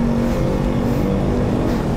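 A motorcycle engine revs steadily and close by, a low droning hum with a constant tonal whine underneath, loud and continuous for two seconds with no voices.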